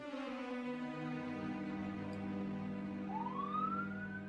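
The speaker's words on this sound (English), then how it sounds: "Oh, what's with all the sirens today?" Sirens in the Radiata Stories video game wail faintly in the background, a low steady drone with a rising sweeping tone near the end.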